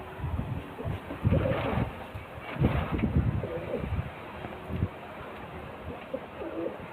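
Madrasi pigeons coo close by, soft throaty calls repeating irregularly over a breezy, noisy background.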